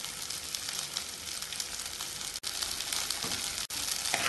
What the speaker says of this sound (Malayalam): ഇത് ഇളക്കി വഴറ്റാം.